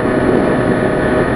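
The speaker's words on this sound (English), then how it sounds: "The bike idles fine," A scooter engine idling with a tuned idle mix and a 62 main jet fitted, giving a steady, loud, continuous mechanical drone close by with no talk.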